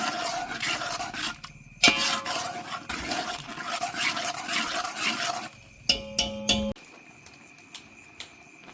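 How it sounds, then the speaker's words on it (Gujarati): Tomato puree, salt, chilli, coriander-cumin powder and turmeric being mixed together in a pan, a close, continuous scraping and stirring that then gives way to brief sharp clatters and a quieter tail. "હવે આપણે બધું ધીમે ધીમે મિક્સ કરી લેશું"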